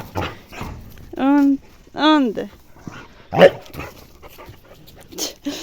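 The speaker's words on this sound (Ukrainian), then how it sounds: "Чого ти на мене гавкаєш?" A village dog barks and yips in short, loud bursts close by, with a few whimpering notes between them, while someone talks over and around the barking.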